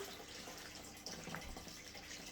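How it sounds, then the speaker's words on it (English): Water draining from a just-watered indoor potted plant as the pot is tilted side to side, a soft steady trickle and splash lasting throughout, fairly faint and close. "I just lean it from one side to another to help drain the water"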